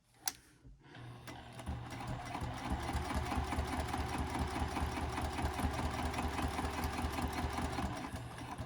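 A sewing machine stitches vinyl on a double pocket wristlet clutch. After a brief pause it runs in a steady, fast, close mechanical chatter that holds evenly to the end.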